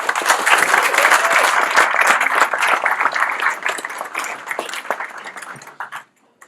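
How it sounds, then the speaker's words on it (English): A crowd at a naval decommissioning and flag transfer ceremony breaks into loud, sustained applause for a commodore, dense clapping that holds steady for several seconds before tapering off and stopping. "please, your applause for Commodore Ford"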